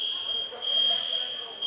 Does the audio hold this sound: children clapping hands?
no